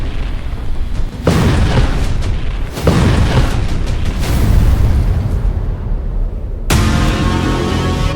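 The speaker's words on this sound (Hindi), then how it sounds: "धमाका देखिए।" Several heavy booming explosions erupt in sequence at Russia's Novorossiysk naval base, each a sudden loud burst followed by rumbling that lingers before the next one.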